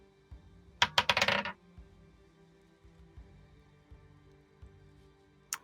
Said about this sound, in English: Dice.